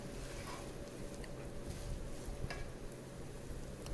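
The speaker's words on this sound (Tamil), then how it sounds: "அதுக்கப்புறம் இதை நல்லா வதக்கி விடுங்க ஒரு நிமிஷத்துக்கு." Potatoes sautéing in hot oil for a crispy South Indian potato fry, 600 grams in the pan, giving a steady, low hiss with faint stirring scrapes throughout and no voices.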